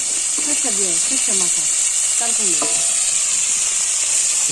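Fish fries in a pan with turmeric and chili, giving a loud, continuous hiss-like sizzle that carries through the clip while a voice speaks briefly over it.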